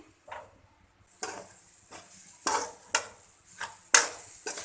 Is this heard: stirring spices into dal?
yes